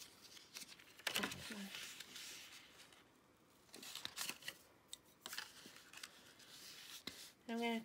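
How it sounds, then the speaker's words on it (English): Cardstock being folded along score lines for a gatefold card gives soft, faint papery rustles and crisp creasing snaps, heard close with quiet gaps between them and a brief voice near the end. "I'm just going to fold on those score lines"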